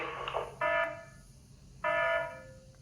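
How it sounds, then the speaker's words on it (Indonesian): The fault alarm of the GJ-18 oven and dryer control system sounds in two loud, steady electronic buzzer blasts, each about a second long, separated by a short silence. "Indikator dan alarm kerusakan sudah menyala."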